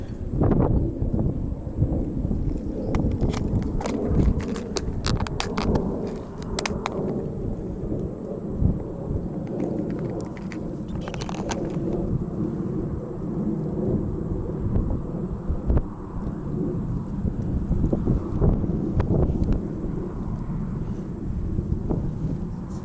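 Strong wind buffets the microphone during a fishing outing, a constant low rumbling roar with gusty swells and occasional sharp clicks of reel handling.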